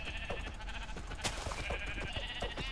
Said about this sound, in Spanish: Ovejita.